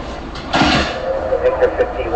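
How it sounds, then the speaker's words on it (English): The interior door of a sleep lab's anteroom closes with a muffled thud and a soft rumble, followed by faint knocks, against steady room noise while a person talks. "And now we're going to close this interior door."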